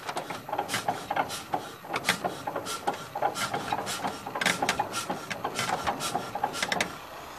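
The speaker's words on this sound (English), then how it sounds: "So I've got a starting handle here, which I turn anti-clockwise in the direction of the engine." A starting handle is cranked anti-clockwise on the engine of a Grahame-White Wonder Car with its decompressor lever engaged, giving a close, repeated ratcheting clatter in an even rhythm of mechanical clicks and scrapes throughout.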